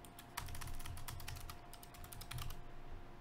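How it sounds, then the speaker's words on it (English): Rapid clicking of a computer keyboard as a short text prompt is typed, steady close-up keystrokes with a small burst of faster taps, no voices. "So let's type in Morgan Freeman smiling."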